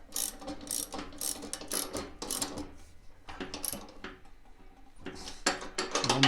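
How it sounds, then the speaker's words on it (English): A ratchet tightens self-locking nuts on the blade brake of a Snapper rear-engine rider mower, making rapid clicking bursts close by, separated by short pauses. "you're going to have to use a wrench and a ratchet"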